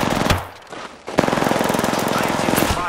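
In an Apex Legends match, rapid automatic gunfire rattles loud and close, dips briefly, then returns as a steady, unbroken stream of shots.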